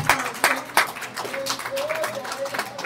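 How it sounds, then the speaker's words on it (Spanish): Churchgoers clapping during a Spanish-language morning service, a few sharp individual claps at first, then scattered applause, with a voice talking over it. "denle un aplauso al Señor, por favor"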